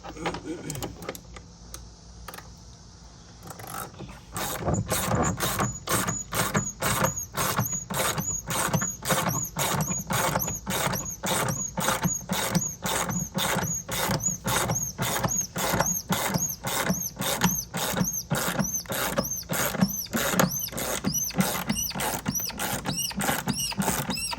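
A socket wrench turning a fastener on a Jandy pool filter: after a few quiet seconds, a long run of fast, evenly spaced ratcheting clicks, close and steady, continuing for about twenty seconds.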